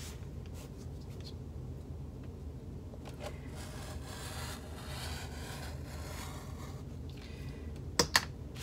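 Fabric lining for a hobo bag is cut out, producing soft intermittent scraping and rubbing sounds up close, ending with two sharp clicks.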